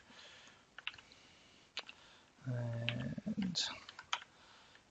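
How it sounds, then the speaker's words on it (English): Bursts of clicking keystrokes on a computer keyboard while coding a GameMaker high score table, quiet and close, with a short spoken word in the middle. "Oh, I really can't type today."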